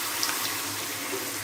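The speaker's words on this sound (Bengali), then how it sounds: "এর মধ্যে হালকা একটু পানি দিয়ে দিলাম" Water pouring into a pan of chicken curry with spices, a brief steady splashing rush heard close and alone.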